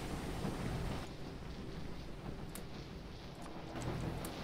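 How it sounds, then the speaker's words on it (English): A thunder and lightning storm in Florida sends low, rolling rumbles through a faint, distant wash of rain and wind that swells slightly at the start and end. "Oh my gosh, that thunder and lightning."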